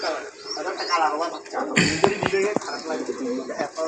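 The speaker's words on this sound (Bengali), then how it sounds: "কবুতর গুলা বাচ্চা কাচ্চা নিয়ে বসে আছে" Pigeons coo and flutter close by, sitting with their young, their soft calls mixed with a burst of rustling and knocks midway, while people talk over them.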